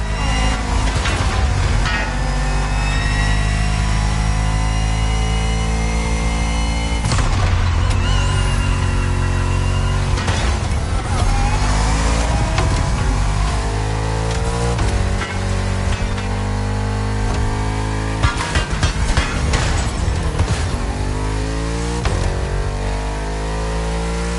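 A Bugatti Vision GT engine in the racing game The Crew Motorfest: loud, sustained engine tones rise and fall through repeated gear sweeps, with harmonic pitches climbing between shifts.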